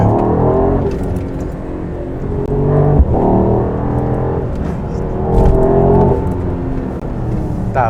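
Mercedes-AMG GT engine and exhaust in sport mode, a loud continuous throaty rumble that swells with rev surges around the middle and later, heard up close without talk.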